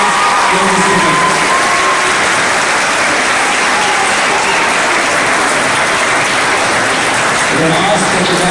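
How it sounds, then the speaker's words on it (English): Audience applause fills a school event in a hall, a dense, steady clatter of many hands clapping continuously and loudly from start to finish with some crowd murmur mixed in. "Let's give them a wonderful round of applause"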